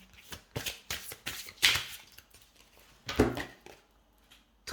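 Oracle cards shuffled before drawing a final card: a series of close, crisp riffles and slides in uneven bursts, with no talking.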